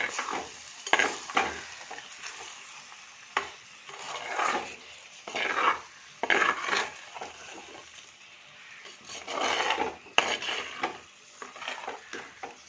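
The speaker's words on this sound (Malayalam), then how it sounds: "നമുക്ക് ഇളക്കാം." A Kerala-style thoran stirred in a pan after a few minutes on low flame, soft scraping strokes in repeated bursts with a light sizzle between them, close and fairly quiet, no talking.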